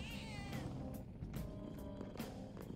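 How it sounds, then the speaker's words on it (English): Morgana, the cat companion in Persona 5 Royal, gives short game meows when the controller touchpad is tapped. The calls are brief, repeated and clear, with no talking over them. "if I tap it, he makes meow noises"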